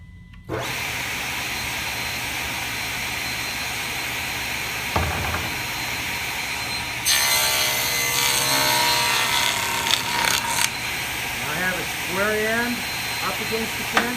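A power saw squares off the end of a glued-up wood panel, its motor humming steadily before the blade bites into the wood with a loud, harsh rasp that then winds down, while someone talks over parts of it.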